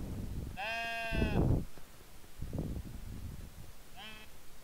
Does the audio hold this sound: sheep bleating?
yes